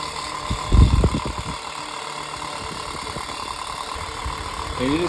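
An unbranded 7-inch desk fan runs loudly, giving an even, close whirring drone with a slight vibrating buzz. A short burst of speech comes early on, and the fan then continues alone.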